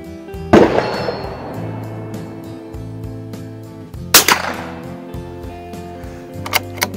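Sharp gunshots crack out from nearby shooting ranges, two loud reports a few seconds apart followed by fainter pops, over a low steady hum.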